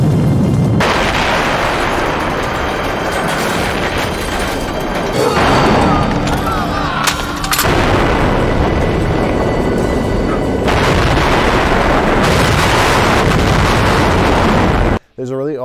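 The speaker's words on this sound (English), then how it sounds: "Lots of explosions." Loud booming explosions and bursts from the 1996 film Warhead rumble under a busy, dense soundtrack, with voices mixed in, before cutting off abruptly at the end.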